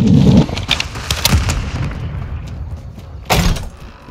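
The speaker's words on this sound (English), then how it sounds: "Frag out! Throwing grenade!" Frag grenade blasts in Call of Duty Modern Warfare 2 on the Shoot House map during a Domination match: a loud booming burst near the end, with earlier sharp pops and gunfire-like cracks over a busy game backdrop.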